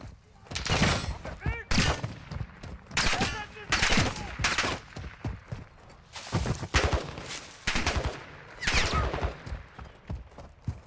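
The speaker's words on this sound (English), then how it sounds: "There's a player shooting at me over there." Gunfire from a player shooting in an online shooter game, bursts of rapid shots scattered across the clip, with a voice talking between and over them.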